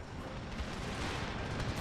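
Cannon artillery pounds away in Empire Total War, a dense, steady roar of overlapping booms and rumble filling the whole short stretch without a break.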